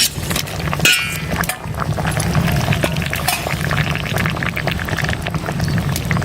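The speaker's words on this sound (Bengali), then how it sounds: "মাছগুলো আমি এখন ঝোলের মধ্যে ছেড়ে দিচ্ছি।" Live latha fish slipped into a simmering taro curry broth, with a steady bubbling boil throughout and a brief splash near the start over continuous liquid churn.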